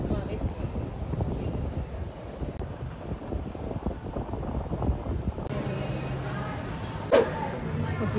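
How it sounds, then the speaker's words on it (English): Steady wind buffets the microphone with a constant rushing roar on the SkyHelix ride at Sentosa, Singapore, while people talk underneath. "It's very windy."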